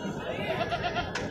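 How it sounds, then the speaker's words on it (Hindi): A Patteri breed milking goat at the Tando Adam goat market gives a short, wavering bleat, close and clear, ending abruptly. "ये एक पटेरी ब्रीड की बकरी खड़ी हुई है। ये भी दूध वाली बकरी है"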